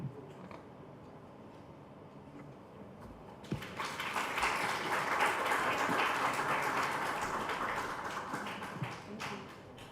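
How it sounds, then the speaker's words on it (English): Audience applause at a startup pitch event kicks in partway through after a quiet stretch, building into a fairly soft, steady wash of clapping that fades slightly toward the end. "Shall we do another round of applause for Farm 360"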